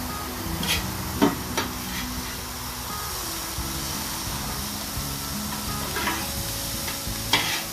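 Hash browns and ham frying on a hot griddle, a steady close sizzle and hiss running throughout with occasional light scrapes and taps.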